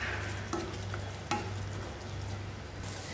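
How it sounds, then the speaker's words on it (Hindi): Spiced masala with tomato paste frying in a pan, a low steady sizzle with two brief spatula scrapes and taps; close and fairly quiet. "मैं 2-3 मिनट तक अच्छी तरह मसाला को भून लेती हूँ।"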